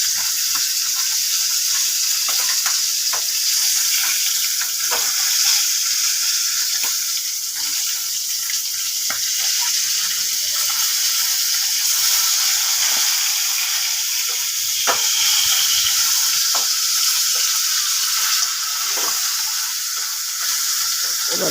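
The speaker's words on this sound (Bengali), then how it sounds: "এবার ভাজা হয়ে গেছে, তুলে নিচ্ছি।" Fish for a green fish curry frying in oil: a loud, constant hissing sizzle with scattered pops and crackles close up, no voices over it.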